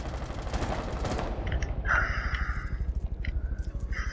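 Rapid video game gunfire in a first-person shooter match, a dense burst of automatic shots fading into scattered single shots with game sound effects, moderately loud and with no talking.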